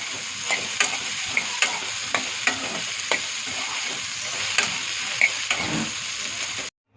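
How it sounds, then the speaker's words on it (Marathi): Cauliflower, peas, carrot and potato frying in oil for a veg Kolhapuri curry make a continuous close sizzle, broken by regular spoon scrapes and clicks about every half second as the pan is stirred. "हे बघा भाज्या आपल्या तेलामध्ये फ्राय करून झाल्या आहेत"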